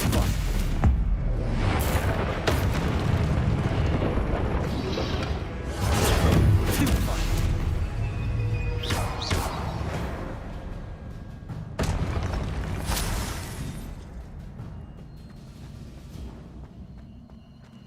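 Spell combat in the video game Hogwarts Legacy: a dense run of magical blasts, whooshes and booming impacts fires in rapid bursts, with character voices calling out between them.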